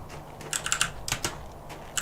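Computer keyboard typing, a quick irregular run of crisp close key clicks in small bursts with short pauses, alone over a faint background hum.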